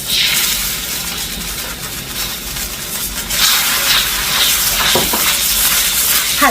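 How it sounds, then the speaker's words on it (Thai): Minced Chinese garlic and fermented soybean paste stir-frying in a hot wok, with a loud, constant sizzling hiss and occasional scraping strokes near the end, no voices. "เราก็จะต้องนำเต้าเจี้ยวค่ะ มาผัดในขั้นตอนนี้เลย"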